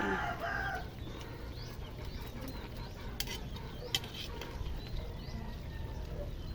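Chickens cluck faintly in a noisy outdoor setting with a steady low rumble, a few scattered short calls rising over the background now and then.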